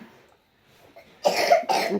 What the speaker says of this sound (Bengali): কাশি ভালো লাগছে না।